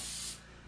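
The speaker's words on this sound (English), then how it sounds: "I'm going to spray the back of it lightly with a little bit of spray adhesive" Short burst from a can of spray adhesive misted onto the back of a stencil, a close, loud hiss cutting off abruptly after a fraction of a second.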